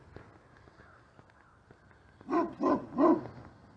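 A protective dog barks three times in quick succession near a trail in Clinton, the loud barks following a quiet stretch of faint outdoor background.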